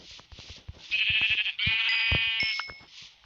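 Minecraft sheep let out a series of nasal, wavering bleats, a few in a row, close and loud against a faint game background.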